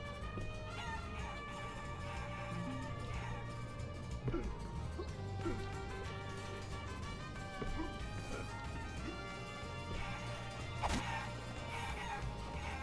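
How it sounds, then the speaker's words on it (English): Chickens cluck and squawk in the video game Guacamelee, short fowl calls and thwacking hits scattered over busy, loud game music, with one sharp crash near the end. "More chickens."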